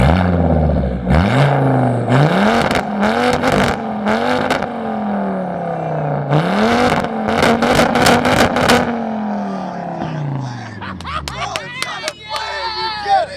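Straight-piped Volvo with a 3-inch exhaust and turbo revs hard in repeated climbing pulls, loud and close. A high turbo whine and crackles come through near the end, with voices chattering underneath.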